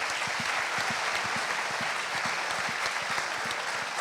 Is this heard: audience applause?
yes